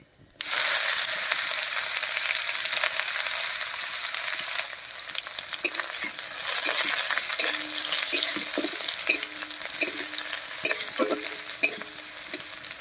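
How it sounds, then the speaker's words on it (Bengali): Chopped onion sizzles in hot oil with bay leaves, whole garam masala and cumin for a Bengali man kochu curry, a loud, steady close-up frying hiss broken by intermittent scraping and stirring clatter. "ঝোলটা একটুখানি ভাজা হয়ে গেছে এবারে দেবো পেঁয়াজ কুচি"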